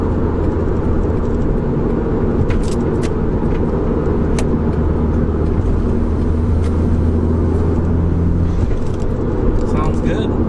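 A Mazda RX-7's engine drones steadily under heavy road and wind noise while driving with the air conditioning on, loud and continuous from inside the cabin.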